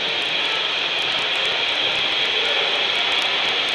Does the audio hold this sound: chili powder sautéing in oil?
no